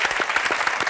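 Studio audience on a talk show applauding steadily, a dense continuous wash of many hands clapping close up, with no talk over it.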